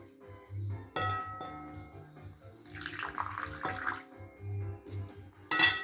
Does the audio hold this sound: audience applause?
no